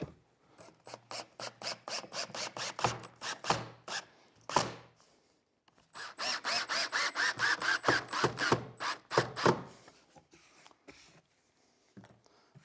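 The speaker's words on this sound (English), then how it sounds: "I'm just going to use some really long screws here, pre-drilled through the sides." A power drill whirs in rapid pulsing bursts as long screws are driven through pre-drilled sides into a wooden drill press table, two extended runs separated by a short pause, loud and close.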